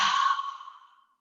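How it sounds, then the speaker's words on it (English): One deep breath let out through an open mouth, a breathy sigh that starts full and close and then trails off softly over about a second. "Open mouth, exhale, let it go."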